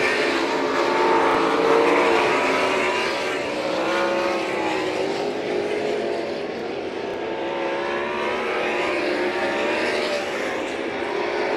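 UMSS sprint cars race two-wide on the St. Croix Valley Raceway oval, a continuous droning roar of engines at moderate distance, swelling and easing slightly as the pack moves through the turns.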